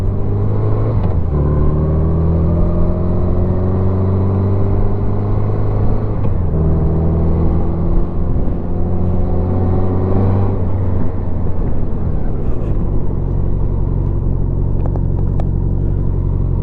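A 1987 Honda GL1200 Goldwing motorcycle engine hums close and loud during a ride, with a steady low drone that rises in pitch through several gear pulls, each climb dropping back as the next gear engages.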